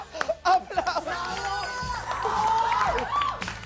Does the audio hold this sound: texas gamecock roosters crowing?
no